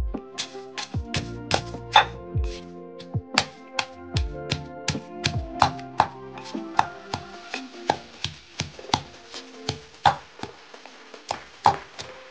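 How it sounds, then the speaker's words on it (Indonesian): Natural slimming ingredients are pounded until fine, giving a long run of sharp, evenly spaced thuds, about two or three per second, close and clear with no talking. "Selanjutnya, saya akan menumbuk sampai halus."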